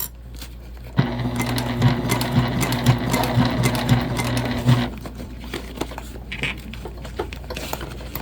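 A sewing machine stitches a bag, running steadily for about four seconds with a regular mechanical whir and ticking needle rhythm, then stops, leaving quiet handling noises.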